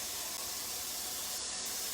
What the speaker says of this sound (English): So I'm just going to fill this up with water.